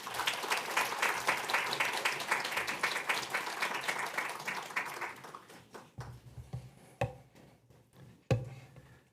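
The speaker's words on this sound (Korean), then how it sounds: "우리 목사님 환영하는 의미로 큰 박수로 맞이하겠습니다." A church congregation claps in loud, dense applause during Sunday worship to welcome a visiting pastor, sustained for about five seconds before thinning out into a few scattered, isolated claps and taps.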